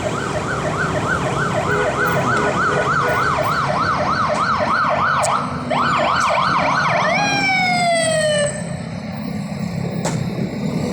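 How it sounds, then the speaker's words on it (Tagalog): An ambulance siren wails in steady repeating cycles, then shifts to faster yelps and a falling tone as it passes on a road at New Year, loud and close with no speech. "ambulansya."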